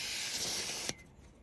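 Air hisses steadily from the valve of a BSA Gold S motorcycle tyre as a TPMS sensor is screwed on, then cuts off abruptly with a small click and leaves quiet.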